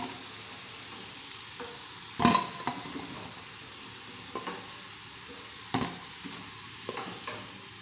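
Round breakfast balls frying in a pan over a medium flame and being turned over, giving a steady close sizzle broken by a few sharp clicks and scrapes as they are flipped.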